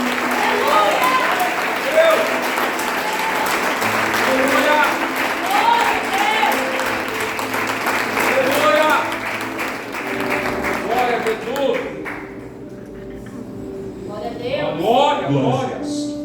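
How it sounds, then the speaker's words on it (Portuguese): A church congregation at a communion service claps together in a sustained round of applause, with voices and music carrying over it, fading briefly before a renewed burst near the end. "dá uma salva de palmas ao Senhor. Aplauda"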